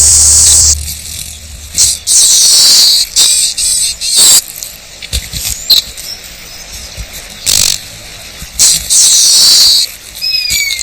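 Big cicadas on a tree buzz in loud, harsh bursts of a few seconds each, with brief gaps between them. The insects sound close and there is no talk.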